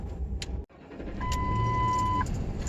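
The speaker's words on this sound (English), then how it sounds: "Let's turn my truck back on." A truck engine is started on a cold day in Michigan: a short click, a brief dropout and a chime, then the engine catches and settles into a steady loud idle.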